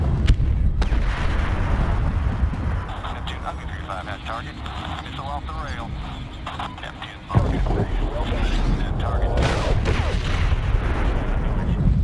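Rumbling, booming blasts of cannon fire in the video game Medal of Honor, with a continuous low roar, a sharp loud onset partway through, and a voice talking under the noise.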